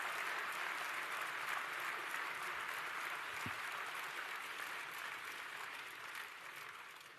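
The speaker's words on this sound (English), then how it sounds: "Can you give all of our award recipients a great round of applause?" An audience at a WorldSkills closing awards ceremony applauds the award recipients, a dense steady roar of clapping from many hands that holds evenly for several seconds and then slowly tapers off.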